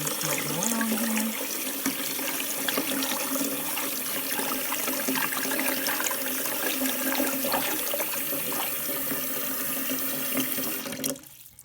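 Water sprays steadily from a tap to rinse dirt off freshly dug dandelion roots in a sink, a continuous close hiss and splash that ends abruptly near the finish.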